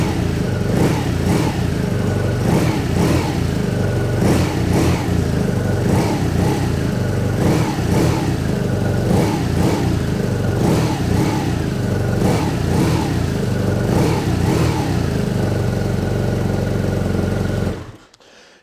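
A 2020 BMW R nineT Racer's air-cooled boxer engine revs repeatedly at close range, with a loud continuous idle punctuated by a steady series of sharp throttle blips before it cuts off at the end.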